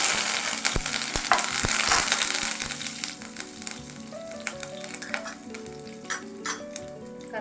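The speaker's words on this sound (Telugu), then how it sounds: "ఎండుమిర్చి వేసుకొని కరివేపాకు కూడా వేసుకోవాలి చూడండి కరివేపాకు వేసుకుంటాం" Dried red chillies and curry leaves fry in hot oil in a pan: a loud, steady, close crackling sizzle with spattering pops, easing slightly over time while some stirring clinks sound, no talk.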